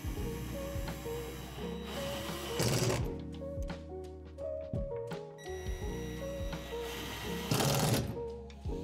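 A power driver sinks black screws through an L bracket at the base of a Lifetime utility shed wall panel into the floor, in several whining motor bursts with short pauses and clicks between them.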